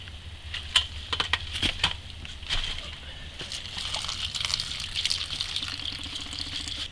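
Water spills and splashes out of a water pump being primed, a steady sloshing gush with scattered splatters and drips, fairly close, with no talking.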